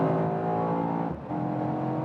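A 2022 Mercedes E63S AMG facelift accelerates hard at high speed on the autobahn, with a loud, continuous engine roar heard from inside the car. A brief dip near the middle is likely a gear change before the roar picks back up.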